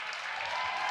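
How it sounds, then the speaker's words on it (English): Brief burst of audience applause at the Microsoft Excel World Championship 2023 finals, a dense steady wash of clapping that swells slightly toward the end, with a few cheers faintly mixed in. "Huge round of applause."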